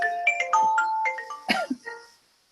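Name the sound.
telephone ringing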